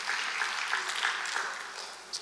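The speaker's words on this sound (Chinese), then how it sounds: "感谢掌声鼓励我们的启华" A church congregation applauds during a Sunday worship service, with steady, moderately faint clapping that continues for about two seconds and ends with a brief louder clap.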